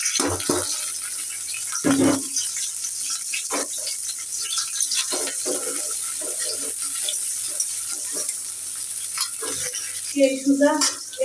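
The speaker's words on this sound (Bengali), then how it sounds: "তো এখন আমি দিয়ে দিব কাঁচামরিচ আর পেঁয়াজ।" Green chilies and onion fry in oil with a steady hiss, interrupted by occasional scraping stirs and metallic rattles of a pan, a louder clatter near the end, no speech.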